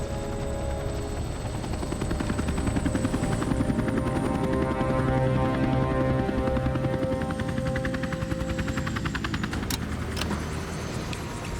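A helicopter sets down on a level patch just above a mine entrance, its rotor chop loud, close and steady throughout, with no voices.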